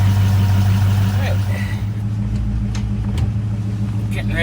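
A 1965 Ford Ranchero engine idles, freshly fitted with a new differential, a steady, close low rumble that holds constant throughout, with faint voices and small clicks over it.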